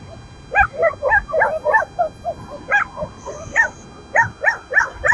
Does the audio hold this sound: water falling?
no